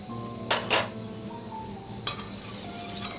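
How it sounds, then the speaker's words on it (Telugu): Melting Vaseline for a homemade pain relief balm is stirred in a pot, with a few sharp scrapes and clinks of a spoon against metal over a soft steady background hum. "వాజలైన్ యాడ్ చేసుకోవాలి, బాగా స్టిర్ చేసుకోవాలి ఇప్పుడు"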